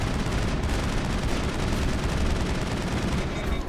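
Sustained gunfire from Commander Shepard in the video game Mass Effect, a dense continuous rattle of shots at steady loud level throughout, with no talking.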